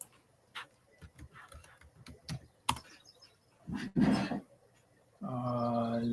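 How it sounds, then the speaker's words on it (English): Keys tapped on a computer keyboard in short irregular bursts, fairly quiet and close, followed by a brief broadband rustle and a sustained tonal hum at the end. "Let's just type in facade."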